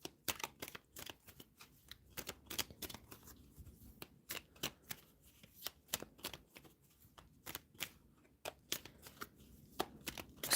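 Tarot cards are shuffled close up, quiet but crisp, in rapid irregular riffles and slaps that go on steadily with no talking.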